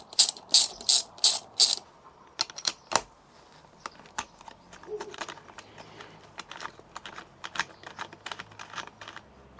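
Tool work loosening a bolt on a Honda NX500 motorcycle hand guard: a run of sharp ratcheting clicks at the start, then scattered metallic taps and clicks at close range, irregular and moderately loud.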